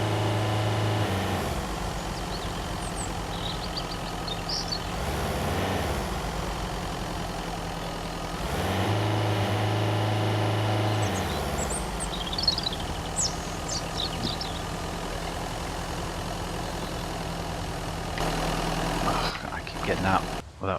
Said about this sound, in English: Getting out without turning the engine off.